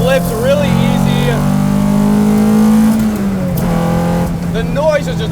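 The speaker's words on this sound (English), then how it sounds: "Really nice intake sound when you come off the throttle." A 1969 Datsun 510 track car drives close by, its engine holding a steady droning note that rises and then drops as the throttle lifts. Someone talks over it.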